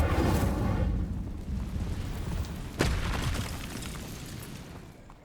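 A fiery Incendio spell bursts out in Hogwarts Legacy, a loud roaring whoosh of flame with a sharp crack near the middle, tailing off into a rumbling crackle over several seconds.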